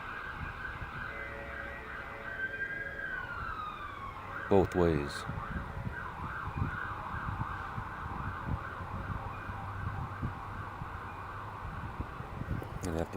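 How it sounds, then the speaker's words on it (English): Fire truck sirens wail and sweep across a bridge, a steady rising-and-falling tone under road traffic noise, with a person talking over it and a brief burst of nearby rumble partway through. "they have to blast their sirens the entire way across that bridge"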